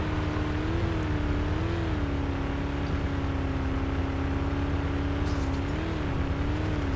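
Heavy ANT vehicle from Planetside 2, a garbage-truck-like machine with a huge many-cylinder engine, droning and revving steadily throughout, its pitch rising and falling in slow swells, loud and close with no talk.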